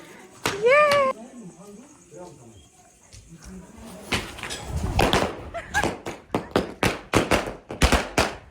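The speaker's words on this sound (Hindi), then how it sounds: "तो आज से हमने पटाखे स्टार्ट कर दिया जलाना।" Firecrackers are set off in a village in Uttarakhand for Dhanteras, with a string of sharp bangs in quick succession after an earlier whistling one, while people talk nearby.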